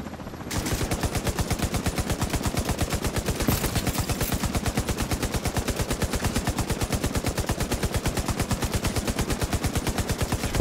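Sustained automatic gunfire in The Division 2 video game during an invasion at the Space Administration HQ, a rapid, steady stream of loud shots hammering on for about ten seconds without pause.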